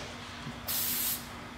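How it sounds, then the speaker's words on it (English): Copper head gasket spray hissing from an aerosol can onto a VQ35DE head gasket during a replacement, one short close burst of about half a second rising out of a quiet background. "So as Corlin is spraying his second coat"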